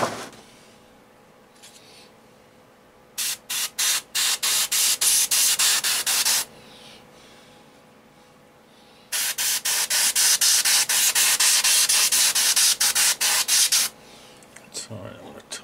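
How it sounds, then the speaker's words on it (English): An airbrush sprays a dry mud effect onto a model vehicle in two long bursts of rapid, pulsing hiss, close and loud, separated by quiet pauses. "same again with the airbrush"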